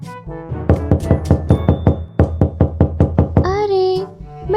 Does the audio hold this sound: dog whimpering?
no